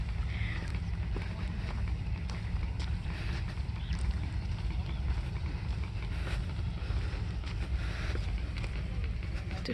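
Trawler boat crossing a river near a Padma char, with a steady low engine rumble, water rush and wind buffeting the microphone throughout; no talking.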